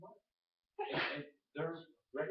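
A single sharp sneeze bursts out between stretches of a person talking during an indoor training talk; it sounds close and fairly loud.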